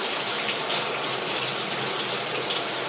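Water runs steadily from a kitchen tap onto an item being washed, a continuous hissing splash heard close and fairly loud, with no voices.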